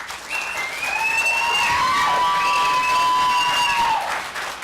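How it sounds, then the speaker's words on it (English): An audience at a county school board meeting breaks into sustained applause after a public comment, clapping steady and full, with a thin high whine running over it. "As a courtesy, I would ask that you hold your applause."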